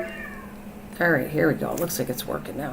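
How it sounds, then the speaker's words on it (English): Cats meow repeatedly in the background of a garden, several drawn-out cries overlapping with a person talking nearby. "You can hear the cats are going crazy in the background today."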